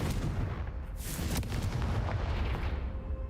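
Explosive Confringo spell cast in the Hogwarts Legacy video game, a loud, dense booming burst with rumbling low-end energy sustained over the whole stretch, like heavy blasts rolling one into another.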